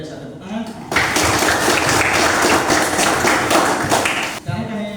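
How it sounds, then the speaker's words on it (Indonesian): Applause from an audience at a teacher-training presentation session, a dense steady wash of clapping filling about three and a half seconds, with a voice speaking just before and after it. "Luar biasa, tepuk tangan."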